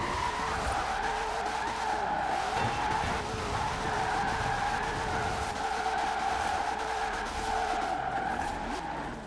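A car drifting in Forza Horizon 4, tires skidding and squealing in a long sustained screech over a roaring, revving engine, loud and continuous for the whole stretch.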